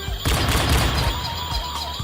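A light-up toy pistol plays its electronic shooting sound effect: a loud, close, rattling burst of gunfire that runs almost two seconds without pause and has no talk over it.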